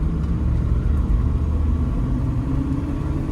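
A 1964 Oldsmobile Jetfire accelerating from a turn, its engine giving a steady deep rumble from inside the car that builds slightly, with no voices.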